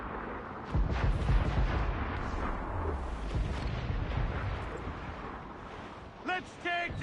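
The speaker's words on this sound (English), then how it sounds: "Mortar incoming!" Mortar fire during a naval battle in Assassin's Creed Black Flag, heavy booming blasts and rumbling roar sustained over several seconds, loud and close, with shouted voices mixed in.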